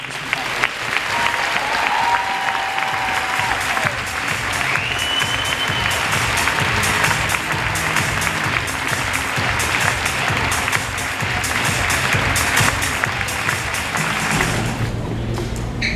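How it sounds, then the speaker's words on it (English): An audience gives a long, loud round of applause for a retiring board president at a ceremony. The dense clapping holds steady throughout, with a few brief whistles or cheers above it. "I hope that we can give him a real big round of applause"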